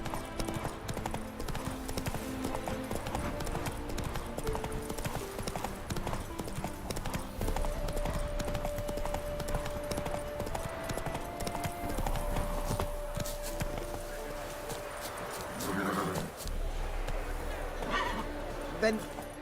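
A horse gallops in The Witcher 3 video game, its hooves clip-clopping in a quick steady rhythm amid game ambience, while voices talk over it.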